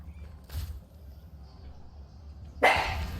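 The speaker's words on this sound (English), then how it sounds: "Just a parting bark there for everybody." A dog gives a brief, fairly close bark during a Heroes of the Storm match broadcast, followed by a louder burst of noisy sound over a low background hum.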